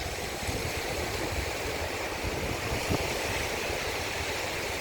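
Sea waves at Kuakata beach in Bangladesh make a steady, broad wash of surf with a constant rushing roar and light wind noise, with no voices over it.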